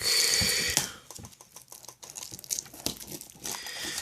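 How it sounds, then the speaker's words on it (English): Plastic wrap being torn and peeled off a Star Wars Rebels DVD case, close crinkling and crackling bursts with short pauses, no talking. "So let's go ahead and open up the plastic."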